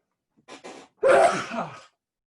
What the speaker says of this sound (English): I'm about to sneeze, watch out.